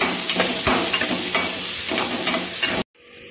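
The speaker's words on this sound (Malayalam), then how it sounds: "ഇതിലേക്ക് കുറച്ച് ഇഞ്ചി ഇട്ട് കൊടുക്കുക" Ginger and garlic sizzle in hot oil in a pan while a utensil stirs and scrapes them with a few sharp knocks, loud and steady, before the sound cuts off abruptly near the end.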